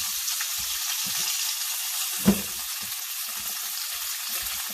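Bacon frying in a pan, a constant close crackling sizzle with scattered pops and one louder knock partway through.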